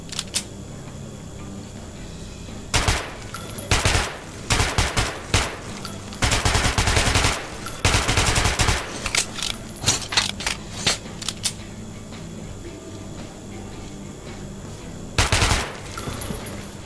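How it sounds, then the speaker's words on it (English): Bursts of weapon fire on an underground firing range in Metro 2033 Redux, several rapid automatic volleys and single sharp shots separated by pauses, loud and close, with no talk. "Feel free to try out your weapon on my firing range."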